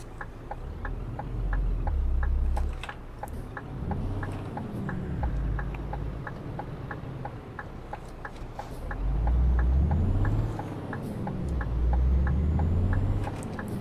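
Lorry engine in Euro Truck Simulator 2, a modded game hauling a coach on Danish roads: a steady low diesel drone that swells and falls with throttle, under a regular ticking of the indicator.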